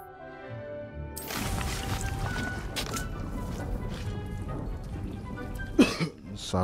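A single short cough from a player breaks through near the end, sitting over the steady background ambience and music of Hogwarts Legacy gameplay.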